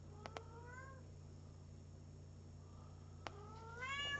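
A cat at a feline rescue center meows a few times, short faint cries near the start and a longer meow at the end, over a low steady hum.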